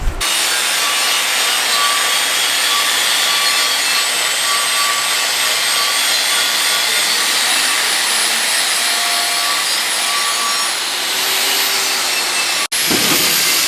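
A steady, continuous buffing drone runs unbroken for about twelve seconds on paint after a cut, rough and even, then stops abruptly with a short knock.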